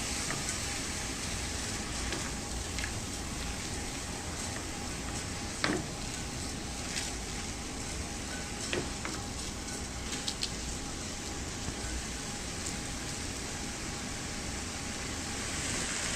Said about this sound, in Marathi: छान परतून घेऊया एकदा